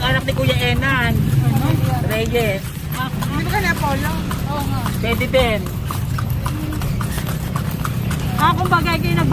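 Horse hooves clip-clop steadily on pavement as a horse-drawn kalesa carriage rolls through Vigan, Ilocos Sur, the rhythmic beats running beneath continuous nearby talk.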